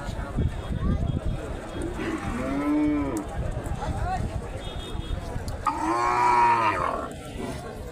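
Cows moo twice at a busy Qurbani cattle market in Bangladesh, one long low call near the middle and a louder one toward the end, over a steady crowd murmur with people talking.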